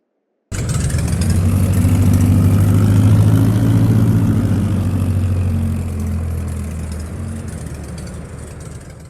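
A tractor engine idles in Farming Simulator 22, a steady, loud low rumble that starts abruptly and runs for several seconds, easing slightly toward the end.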